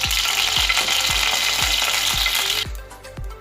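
Coconut oil mixed half and half with ghee heats in a pan with a steady crackling sizzle, while a utensil clinks against the pan in a regular rhythm of sharp taps before the sizzle drops away.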